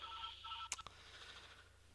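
Faint telephone dialing tones with a couple of quick tone bursts over a steady low hum and buzz on a quiet line, with no voices.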